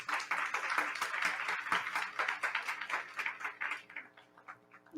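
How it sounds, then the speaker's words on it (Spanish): Applause from an academic conference audience after a speaker's introduction, a steady patter of many hands clapping that thins out toward the end, with a faint voice emerging at the close. "Un fuerte aplauso."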